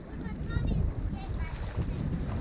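A surprisingly fast sailing yacht moves through water along a port coastline, a steady rush of water and wind buffeting the microphone, with faint voices mixed in.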